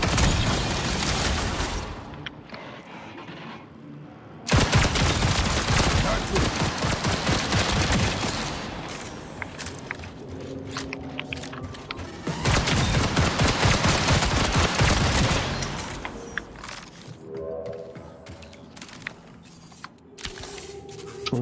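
Bursts of rapid gunfire and fusillades in the sci-fi shooter video game Marathon, loud stretches of continuous shooting broken by brief pauses, with mechanical clatter between volleys.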